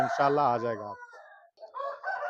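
An aseel rooster crows loudly and close, one long harmonic call that fades out, followed by a fainter second call or clucking.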